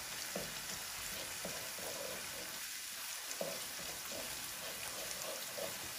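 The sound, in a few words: hilsa fish frying in pan, sizzling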